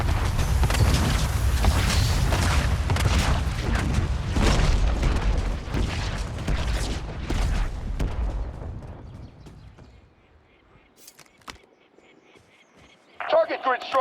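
Airstrike explosions in Warzone, a rolling barrage of loud, deep booms in close succession, fading into quiet with a few faint distant thuds near the end.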